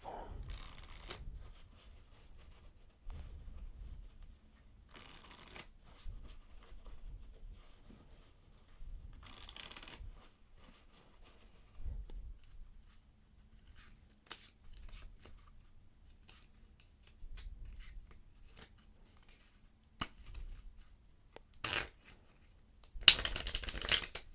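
Quiet riffling and snapping of playing cards being shuffled in several separate bursts, close by, with soft handling noises in between.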